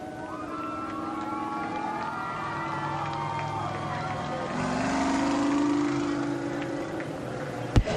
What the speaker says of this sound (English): Line up for our bus race.